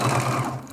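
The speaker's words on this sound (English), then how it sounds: "I'm just going to do a straight stitch right close to that raw edge on each one of these little scraps." A sewing machine runs a straight stitch close to the raw edges of small fabric scraps for quilted ornaments, with a steady, quick mechanical hum and rhythmic needle pulses that ease off toward the end.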